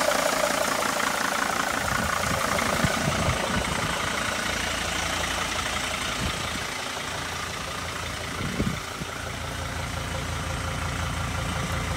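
Diesel engine of a Mercedes T1N Sprinter van idles steadily, a close, continuous low throbbing rumble with even rhythm and a brief clank partway through.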